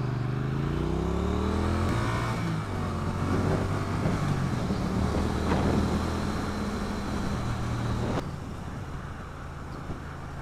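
Stock-exhaust Triumph Street Twin 900 motorcycle revving with rising and falling engine pitch, loud and close, with wind noise over the microphone and no talk.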